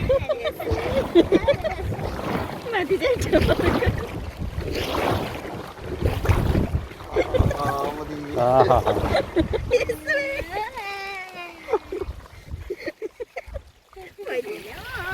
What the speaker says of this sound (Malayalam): വഞ്ചി തിരിച്ചതാണ് കേട്ടാ കൊട്ടവഞ്ചി തിരിച്ചതാണ്